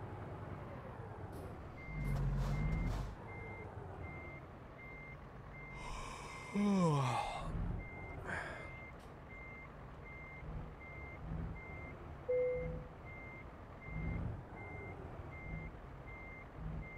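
Reversing beeps sound at a steady, evenly spaced pulse from a truck backing a trailer in American Truck Simulator, with a brief air brake hiss and faint engine rumble beneath.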